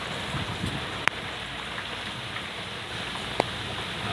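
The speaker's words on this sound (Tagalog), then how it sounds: "so grabe ulan," Heavy typhoon rain pours down in Taiwan in a constant loud hiss, broken by a couple of sharp clicks.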